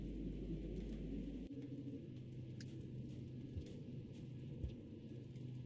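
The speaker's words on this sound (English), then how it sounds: "Very rainy in this world." Steady rain hiss with a low thunder rumble opening the scene in the video game Rain World, followed by a few faint distant knocks, ambient and continuous with no voices.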